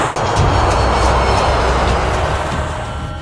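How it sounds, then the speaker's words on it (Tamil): A film sound effect of an airplane flying: a loud, broad engine roar holds steady with a low rumbling base and slowly fades a little toward the end, with no voices. "ஃப்ளைட் இப்போ இமயமலைக்கு மேலே தான் சார் பறந்துட்டு இருக்கு"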